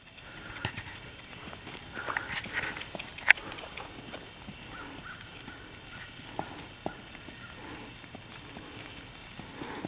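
A ridden horse's hooves clip-clop at an even walking rhythm at moderate distance, with a soft patter and faint outdoor background and no talking.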